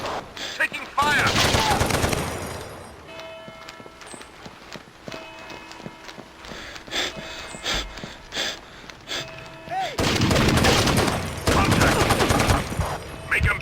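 Bursts of rapid gunfire in the Rainbow Six 3 video game on Nintendo GameCube, a loud fusillade at the start and again near the end, with quieter shots, footsteps and voices between.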